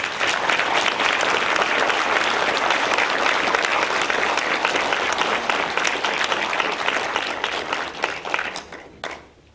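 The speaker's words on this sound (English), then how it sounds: "Now we're going to give you a round of applause." An audience at a veterans program claps steadily in sustained applause, loud and dense, before it fades out near the end.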